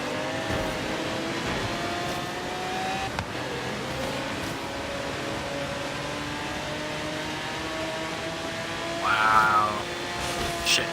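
A large, truck-sized car engine revs and drones steadily, with rising and falling harmonic tones over about eleven seconds and a brief higher whine toward the end.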